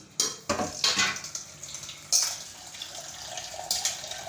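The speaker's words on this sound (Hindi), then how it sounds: "लेते हैं आटे के लिए पानी।" Water runs from a kitchen tap for making dough, a hissing splash that starts and stops in several bursts, mixed with clinks of dishes and utensils in a home kitchen.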